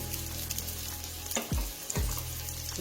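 Sweet potato cutlets frying in a pan, a constant close crackling sizzle with two brief muffled thumps as pieces are moved, and no talking.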